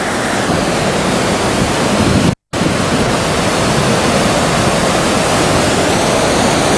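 A large waterfall cascades in a loud, steady roar of rushing water that fills the whole clip, broken only by one brief dropout partway through.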